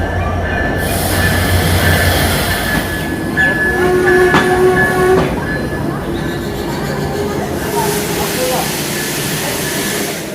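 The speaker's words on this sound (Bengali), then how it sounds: "ইতিমধ্যেই প্ল্যাটফর্মে আমাদের ট্রেন এসে প্রবেশ করেছে" The Sundarban Express pulls into the platform at Rajbari railway station, rumbling and clattering loudly nearby with sharp metallic wheel squeals and brakes, while station crowd noise and voices mix in.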